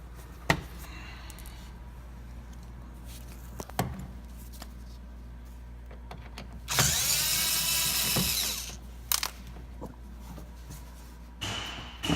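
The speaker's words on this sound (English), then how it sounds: "what I use is a Phillips bit on a hand ratchet" A hand ratchet with a Phillips bit turns a screw on a Honda Ridgeline rear bumper cover: scattered clicks and knocks, then a louder sustained whirring stretch, heard close with no talking.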